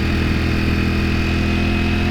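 Ducati Panigale motorcycle engine running steadily while riding, a loud, continuous mid-pitched drone with no breaks or voices.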